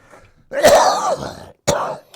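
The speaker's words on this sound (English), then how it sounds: "this cough's got to go" One rough, harsh cough from a smoker, then a second shorter one after a brief pause, close and loud.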